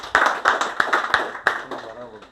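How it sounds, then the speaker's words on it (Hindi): A group gives a short burst of clapping, with a handful of distinct loud claps in quick rhythm at a tunnel safety training session, fading out under a voice. "एक बार साहब के लिए जोरदार तालियां।"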